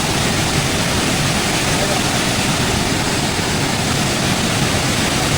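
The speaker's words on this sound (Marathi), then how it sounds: "अतिशय असा खळखळाट वाहणारा हा वॉटरफॉल" A loud, continuous roar of rushing water fills everything, a thick unbroken wash of noise from a powerful monsoon waterfall close by at Bhandardara, Maharashtra.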